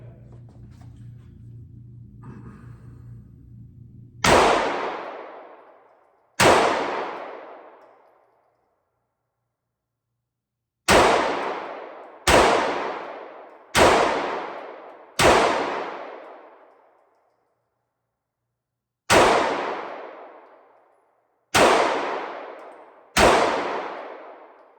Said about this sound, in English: we're going to shooting the highly anticipated 365 Legion, and we're gonna see how it performs today